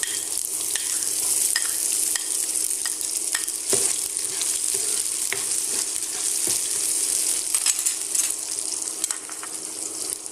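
Chopped shallots and green chillies fry and sizzle loudly in a pan for an elephant foot yam masiyal, with a steady hiss and repeated scraping clicks of a spoon stirring, close up and without speech.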